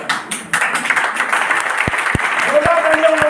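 Audience applause at a business motivational seminar, a steady wash of clapping from a crowd with a voice calling out over it and a few sharp thumps near the end.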